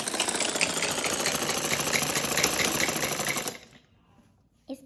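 Sewing machine runs a fast, steady whirring stitch along a folded hem of a frock suit for about three and a half seconds, then stops, leaving near silence with a faint click at the end.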